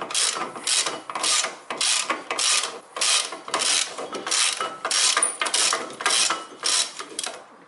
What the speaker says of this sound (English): Soon this bolt is open.